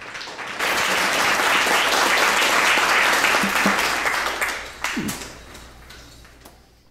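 An audience at an Atheist Community of San Jose talk on secular student organizations applauds to welcome the speakers, a loud, steady burst of clapping that tapers into scattered claps and fades out.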